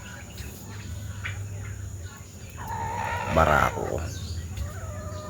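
Domestic turkeys gobble and call at feeding time in a farmyard, with a rising burst of bird calls midway over steady background noise while someone speaks in Filipino.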